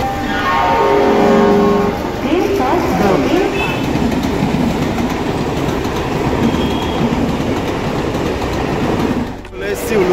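A local train near Howrah and Uluberia running on rails, loud and close, with a rising horn-like tone at the start, then a steady rumble and clatter of wheels over track throughout.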